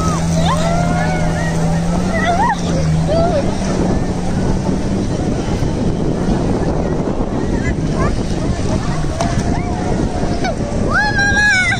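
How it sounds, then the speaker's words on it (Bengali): A small speedboat roars past at Cox's Bazar beach, its engine a steady broadband rumble over wind and surf, while someone talks throughout close to the microphone. "এই দেখতে পাচ্ছেন ওয়াটার বোট চলে গেল চলে গেল চলে গেল চলে গেল"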